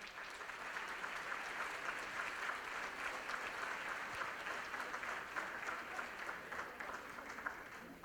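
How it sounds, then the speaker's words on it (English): Audience applause at a corporate annual award function, steady dense clapping from a large crowd held at an even level throughout, with no talk over it. "Big applause, ladies and gentlemen."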